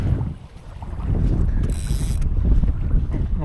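Wind gusts across open water during a fishing outing, a steady close rush and buffeting roar against the microphone with low rumbling, no voices heard.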